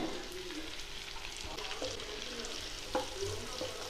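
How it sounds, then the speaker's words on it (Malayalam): Small onions sautéed with ginger and garlic in hot oil in a pan for a beef dish, a soft, continuous sizzle with light stirring scrapes and a brief clink near the end. "ഇഞ്ചി വെളുത്തുള്ളി ഒന്ന് വഴത്തിയതിന് ശേഷം ഇതിലോട്ട് നമ്മുടെ ചെറിയ ഉള്ളി ചേർത്ത് കൊടുക്കാം"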